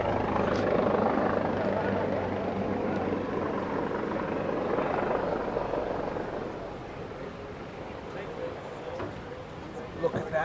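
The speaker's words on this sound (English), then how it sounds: "Oh, we got some kind of helicopter action." Helicopter flying overhead at a Miami boat show, a steady rotor roar that is loud at first and slowly fades as it passes, with people talking nearby and crowd bustle underneath.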